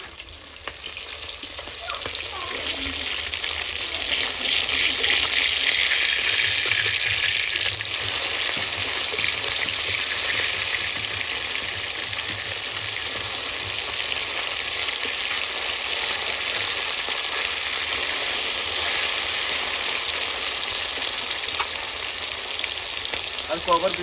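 Fish fries in a pan of hot oil in a home kitchen with a loud, steady sizzle that holds for the whole stretch and swells a little early on.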